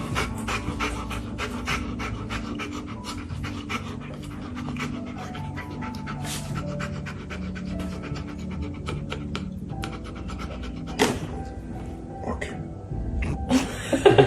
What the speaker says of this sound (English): Let's look at this chiropractor dog.